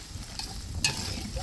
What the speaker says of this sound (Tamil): வெங்காயம் வதங்கணும்.